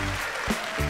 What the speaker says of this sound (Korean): 이게 이제 초기 화면인데 누르면은 박수를 쳐요